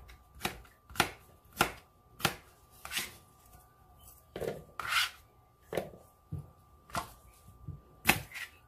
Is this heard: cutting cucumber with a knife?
yes